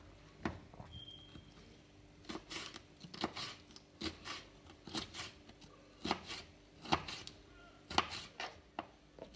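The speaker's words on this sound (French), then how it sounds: "une fois les poivrons nettoyés et vidés, pareil que pour les oignons, on vient les couper tous en lamelles" A knife cuts cleaned, seeded bell peppers into thin strips on a board for tchakchouka, giving repeated crisp chops in uneven bursts, close and moderately loud, with no voices.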